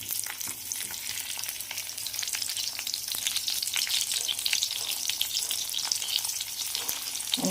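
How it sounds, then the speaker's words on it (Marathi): Onion sizzles steadily in hot oil in a wok after mustard and cumin seed tempering, a continuous bright frying hiss with occasional stirring scrapes, close and alone without talk. "आणि कांदा मी तेलात छान परतून घेते."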